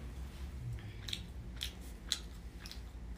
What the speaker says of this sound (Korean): 쩝쩝대면서 먹지 말아주세요.